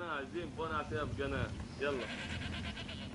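Goats bleat repeatedly in wavering, nasal cries, several overlapping calls close by, with a protest crowd faintly behind them.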